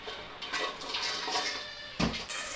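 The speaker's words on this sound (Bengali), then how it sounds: "মরিচগুলো খুব ভালো করে ধুয়ে নেব" Fresh red chilies washed under running water, a continuous close splashing stream with a sharper splash near the end, no voices.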